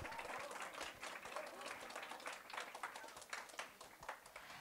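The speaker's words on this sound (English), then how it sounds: "Let's give her a big round of applause." An audience at a tech meetup claps to welcome a speaker to the stage, a steady patter of many hands that carries on evenly throughout.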